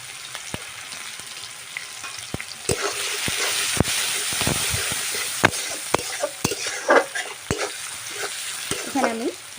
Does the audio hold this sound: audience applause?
no